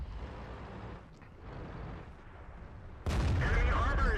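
A tank cannon in World of Tanks fires with a sudden loud boom about three seconds in, sustained and rumbling after a stretch of lower engine and battle noise, with a voice talking beneath.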